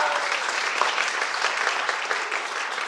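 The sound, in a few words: audience applause at an event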